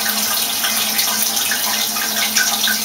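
Water drops falling from a height onto a piezoelectric generator make a steady, continuous splashing and trickling rush, fairly loud and close, with no talking.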